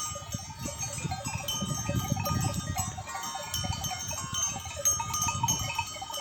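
A flock of sheep moves about, with many small bells clinking and jangling steadily over a soft, continuous shuffle and low murmur of the animals at moderate distance.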